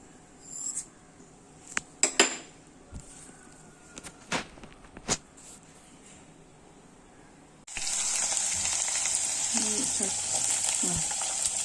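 Mustard seeds and fenugreek going into a hot pan on the stove: scattered clinks and taps, then a sudden loud steady sizzle and crackle that continues close by without talk.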